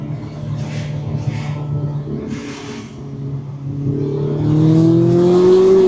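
Car with a newly fitted, louder exhaust accelerating, the engine note rising in pitch and growing louder toward the end, heard from inside the car over a steady rumble.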